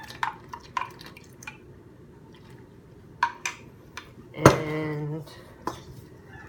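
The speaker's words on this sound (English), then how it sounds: "stir this up real well until I have a nice shaggy dough" A spoon scrapes and knocks against a bowl while roasted garlic sourdough dough is stirred, with scattered clinks and one louder clatter followed by a brief ringing tone, close up, and a single spoken word.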